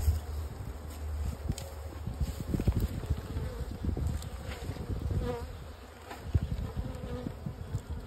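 Honey bees from a small spring colony drone and buzz steadily around an open hive, close and continuous, with occasional nearby rustling and handling sounds.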